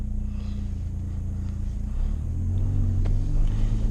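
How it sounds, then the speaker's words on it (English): A Ford Fiesta Titanium with an exhaust delete idles loudly and evenly inside the cabin, then swells as the engine is revved a little, the deep drone steady and close throughout. "only thing I've really done on this car is an exhaust delete, so that's why it's so loud"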